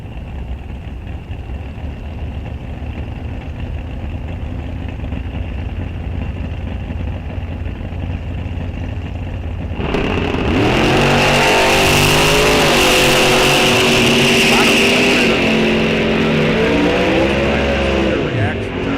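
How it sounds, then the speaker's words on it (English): Drag racing at Rock Falls Raceway in a bracket series: a low engine idle, then a sudden loud launch as a car, including a 1955 Chevrolet in the right lane, roars off down the strip, revving hard through gear changes. "Derry McCormick, 1006 the dial in his 55 Chev in the right lane."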